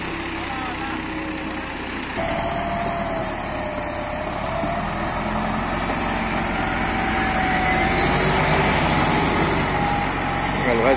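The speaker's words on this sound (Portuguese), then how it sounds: "A retro agora vai empurrar o trator." A backhoe's engine runs steadily while it pushes a D6 crawler tractor, loud and close throughout, with a whining tone rising and falling and the engine growing louder toward the end; people talk over it.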